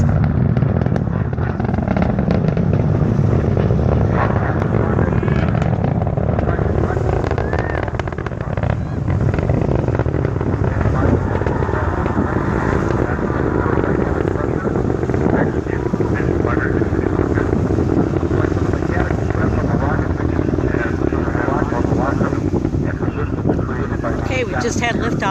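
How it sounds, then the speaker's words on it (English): NASA's OSIRIS-REx spacecraft lifts off from Cape Canaveral on its way to asteroid Bennu, a steady, overwhelming broadband roar with heavy low rumble and wind buffeting that holds loud and unbroken throughout. "we just had liftoff of the OSIRIS-REx spacecraft on its way to asteroid Bennu"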